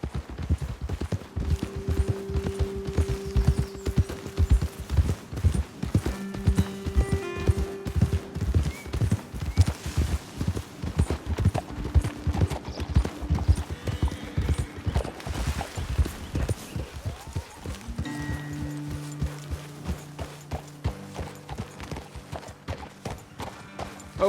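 Horse hooves clip-clop steadily on a trail in the Red Dead Redemption 2 video game, a dense rapid rhythm from several horses sounding close and loud throughout, with sustained musical tones underneath that later slow and fade.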